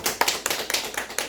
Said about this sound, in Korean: 이럴 때 박수 한번 쳐봐.